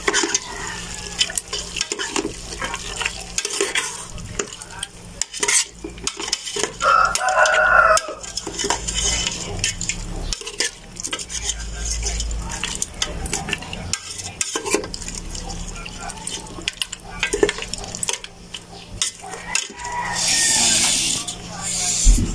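Chicken stew being stirred in a pan: scraping and clinking of a spoon against metal with a soft sizzle underneath, in bursts, while a person talks and a rooster crows in the background.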